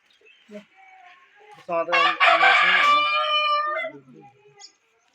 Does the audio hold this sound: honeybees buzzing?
no